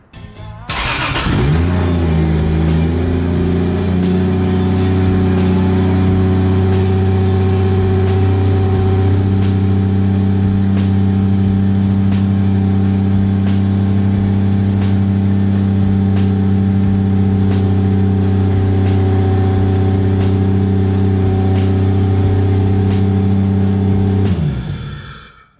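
A Toyota 2JZ engine fitted with a turbo kit cranks and catches on its first start, then runs at a loud, steady, raised idle for over twenty seconds before shutting off.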